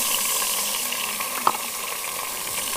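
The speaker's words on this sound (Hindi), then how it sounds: "इसको हमें थोड़ा सा भूनना है।" Green chilies, tomatoes and ginger-garlic paste fry in a clay pot for village-style biryani, giving a steady, even sizzling hiss with one brief clink partway through.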